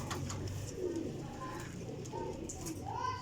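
Teddy golden cross flying pigeons coo in soft rolling calls, repeated a few times close by over a noisy background with faint voices.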